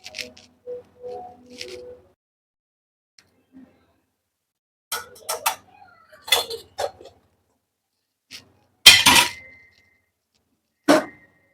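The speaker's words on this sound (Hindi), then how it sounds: "प्याज कट कर लूँ" An onion is cut on a board with a few scattered knife chops and thuds, separated by quiet gaps, after brief talk at the start.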